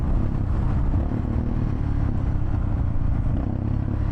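A cheap project motorcycle is ridden hard, its engine a steady close low drone with slight shifts in pitch as it slows and downshifts for a turn, no talking.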